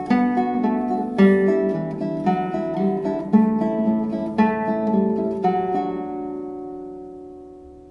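Classical guitar plays a flowing line of eighth notes in 4/4 with alternating strong and weak accents, clear plucked notes with periodic louder attacks, closing on a sustained ringing chord that slowly decays.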